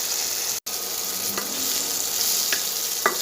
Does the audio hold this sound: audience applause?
no